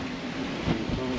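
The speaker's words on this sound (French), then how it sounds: "La mer est un peu hachée ce matin." Choppy open sea slaps against a sailboat on an Atlantic crossing toward Martinique, a broad continuous wash of water and wind noise with a brief swell of louder splash.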